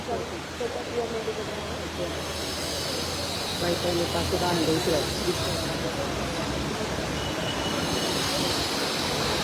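A local train rumbles at a station platform in Badlapur during rain, with steady broadband noise and wheel squeal, while people talk in the background throughout.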